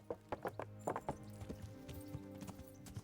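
Horse hooves clip-clop in rhythmic, fairly close beats in the video game Kingdom Come: Deliverance, with a brief whinny-like tone and soft game ambience underneath.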